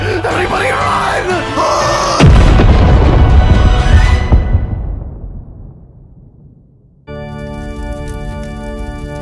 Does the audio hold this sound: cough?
no